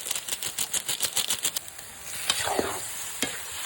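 Spoon stirring a frying dish in a pan right after soy sauce and pepper go in, a quick run of close scraping clicks over a light sizzle, then a few slower louder strokes.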